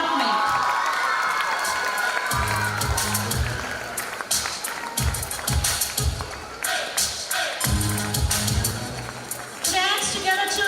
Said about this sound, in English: Hands together, children, and applaud the teachers